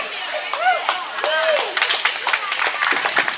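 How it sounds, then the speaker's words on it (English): An outdoor hemp rally crowd at Rehoboth Beach claps and cheers, with high whistles rising over steady applause that swells and grows denser toward the end. "Huge round of applause for Nancy."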